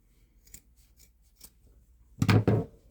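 Scissors snip through the toe area of a knitted wool sock, a few faint clicks and then one loud, close crunching cut near the end, with no talk.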